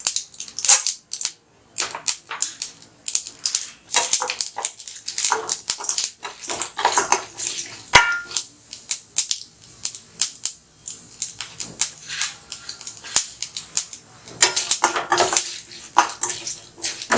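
Mustard seeds spluttering and popping in hot oil while tempering for an onion and garlic arachuvitta kuzhambu, a dense, close run of sharp crackles and snaps that continues with no voices.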